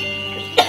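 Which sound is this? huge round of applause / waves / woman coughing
woman coughing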